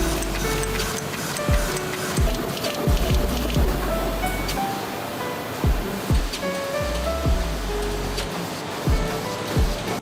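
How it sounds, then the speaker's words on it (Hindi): A printing machine in a playing-card factory feeding sheets one at a time, a steady rhythmic ticking and clacking of repeated sharp impacts over continuous loud mechanical roar. "ये मशीन एक एक शीट को अलग अलग करके आगे प्रिंटिंग के लिए मशीन के अंदर डालते जाती है"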